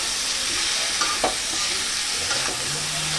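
Boiled elephant foot yam and potato with salt sautéing in a pan, a continuous sizzle with a few sharp spoon scrapes and stirring clinks, close and without talk.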